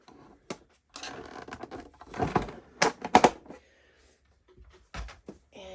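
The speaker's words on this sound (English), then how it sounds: "So next we get our embossing machine out." An embossing machine for card making is pulled out and set down on a crafting table, producing a series of close, irregular clacks, thumps and rattles separated by short pauses.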